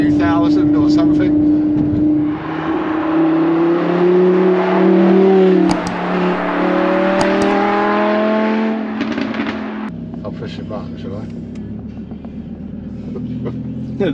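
A supercar engine idles high with a strong droning tone that climbs and wavers in pitch, then drops to a lower steady hum, heard from inside the car.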